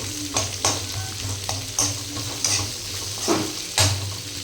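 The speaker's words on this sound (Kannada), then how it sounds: "ಉಳ್ಳಾಗಡ್ಡಿ ಹಾಕತ್ತೇನೆ ರೀ ಗೈಸ್. ನೋಡ್ರಿ ನೀವು, ಚಂದ ಹುರ್ಕೊಳ್ಳೋಣ್ರಿ." Onions fry in a pan, a soft steady sizzle punctuated by repeated scraping and clinking strokes of a spoon stirring them against the metal at close range.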